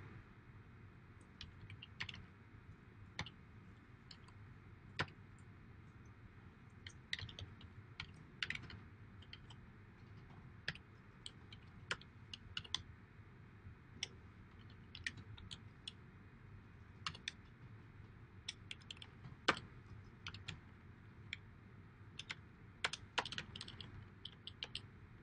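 Steady typing on a computer keyboard, quiet and close, with irregular bursts of clicking keystrokes and brief pauses, alone without talk.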